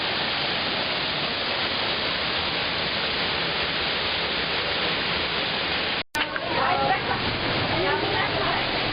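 A constant roar of Düden Waterfall in Turkey fills the scene, loud and unbroken, with a brief cut midway before the roar continues.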